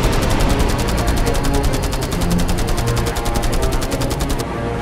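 Rapid machine gun fire from a fighter jet during a 1971 war dogfight over Srinagar, with Sabre jets involved. The bursts form a loud, continuous stream of evenly spaced shots lasting the whole stretch and stopping just before the end.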